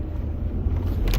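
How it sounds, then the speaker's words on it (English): An old wagon car's engine runs with a low steady rumble, close and continuous, rising slightly near the end. "I hope y'all could hear the engine."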